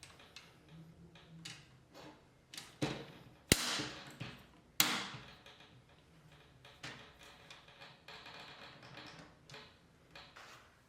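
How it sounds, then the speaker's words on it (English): A Bosch dishwasher cutlery tray side support being fitted to the drawer frame: small scattered plastic clicks and taps, with two sharp, louder snaps close together as the part locks into place, amid quiet handling. "Line up the slot on the side support with the frame of the drawer. Then click firmly into place."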